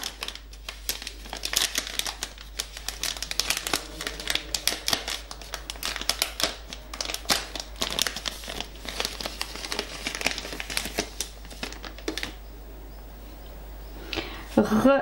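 Scented wax melts shaped like little bows are unwrapped from individual plastic sachets, giving close, continuous crinkling and crackling that stops near the end, with someone speaking.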